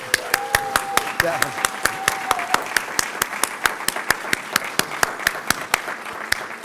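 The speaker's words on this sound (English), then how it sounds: "let's have a round of applause for them" Audience applause at a literacy program graduation, a steady wash of clapping with sharp individual claps standing out near the mic, and a brief voice briefly heard amid it.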